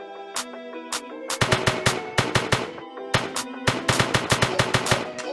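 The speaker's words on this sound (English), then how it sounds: "So I'm now shooting, and the SMG does less damage." SMG fire in an Unreal Engine 4 third-person shooter game: close, loud bursts of rapid automatic shots in two volleys separated by a brief pause.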